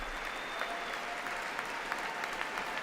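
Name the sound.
applause in Congress at State of the Union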